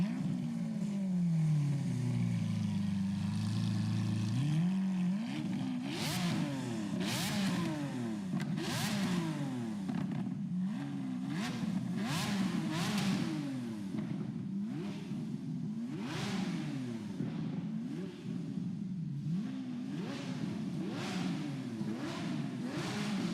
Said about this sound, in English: here's another Lamborghini Aventador, but this time it has an exhaust from Larini.